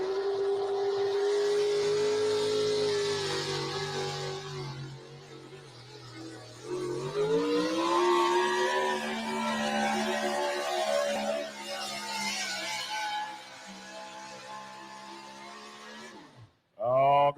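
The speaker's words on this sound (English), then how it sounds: "You heard him sliding that clutch out of the hole." A pulling truck at a truck pull competition roars under load, its engine pitch climbing and holding through long revving sweeps before cutting off sharply, with an announcer talking over it.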